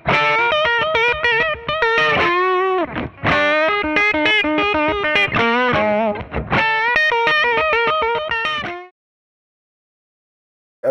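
Distorted electric guitar with effects plays a busy run of rapid notes with string bends and wavering vibrato, loud and close, then stops abruptly into silence.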